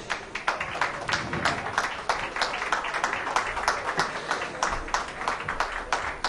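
Audience applause at a French horse-racing awards ceremony, steady clapping from a crowd with clearly distinct rhythmic claps, moderately near and continuing throughout.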